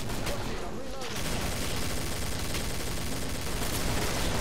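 Gunfire rattles in the video game Killing Floor: dense rapid bursts of shots crackle almost nonstop, loud and close, with a brief lull near the start.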